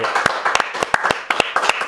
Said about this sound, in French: Tout le monde applaudit, on est 5.